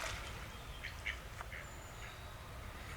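Ducks on open water give a few short quacks at a moderate distance, over a steady wash of outdoor background noise.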